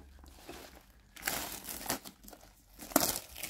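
Crinkly plastic packaging of Faber-Castell Black Edition pencils being torn and crumpled in several rough bursts, close by, with brief quieter pauses between.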